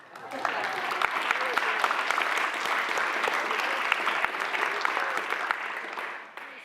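An audience at a community storytelling salon breaks into sustained applause, a dense, even wash of clapping that fades in, holds steady for several seconds and tapers off.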